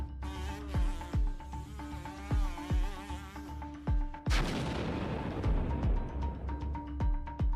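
Repeated heavy tank cannon shots with deep booms at irregular intervals, one especially loud blast midway, over a steady mechanical drone.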